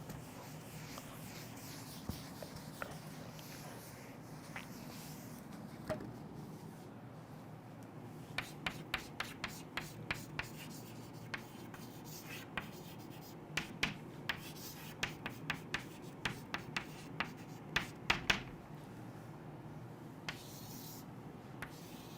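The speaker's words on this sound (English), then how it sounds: "So, we will just write this down." Pen writing notes on paper during a biology lesson, a faint scratching texture broken by many light, sharp taps and strokes in irregular bursts, close but quiet, with no talking.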